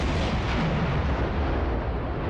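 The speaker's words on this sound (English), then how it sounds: "that must have been the ship going bang" Ship exploding in the submarine game Silent Hunter 4, a heavy, rumbling blast that stays loud and dense, rolling on like a sustained distant boom.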